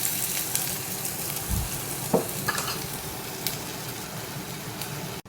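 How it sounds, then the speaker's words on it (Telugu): Tomato frying in a pan on a stove while a buttermilk rasam is being made, a steady loud sizzle with a few scraping stirs of a spoon against the pan. "కొంచెం వేగనిద్దాము టమోటా మగ్గిపోయిందండి"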